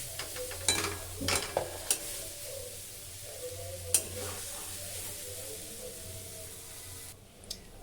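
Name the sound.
stirring kheer with date palm jaggery in a pan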